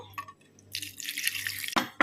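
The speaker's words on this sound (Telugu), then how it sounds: "బెల్లంలో కొద్దిగా వాటర్ వేయాలి" Water poured into jaggery in a bowl, a short splashing trickle of liquid at close range, lasting about a second, followed by a brief clunk and quiet room tone.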